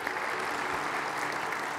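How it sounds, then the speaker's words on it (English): Steady, full audience applause fills a large conference hall at a SOLIDWORKS World general session, continuous clapping at even loudness throughout. "And a big round of applause."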